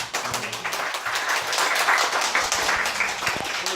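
Steady applause from a congregation at a first-birthday church service, dense clapping continuing for several seconds at moderate loudness, with a few louder individual claps.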